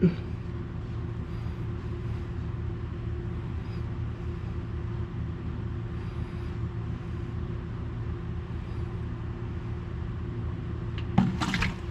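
Fluid drains from a Ford 5600 tractor into a 5-gallon bucket as a steady, even pouring and trickling wash that runs throughout, with a brief clatter near the end.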